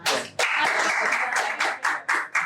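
A burst of dense applause and clapping from an audience at a company talk, rising loud, then breaking into short rhythmic rounds of claps that stop and restart several times.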